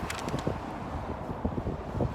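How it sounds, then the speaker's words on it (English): Wind buffets the microphone in low, uneven rumbling gusts on a turnpike overpass, with no voices present. "Sorry, it's windy."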